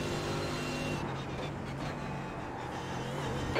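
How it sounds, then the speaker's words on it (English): Engine of a Mercedes AMG GT3 race car at the Nürburgring in the iRacing game, a steady continuous drone with a shifting tone, moderately loud and uninterrupted, with no talking. "There we are, there is the car sound."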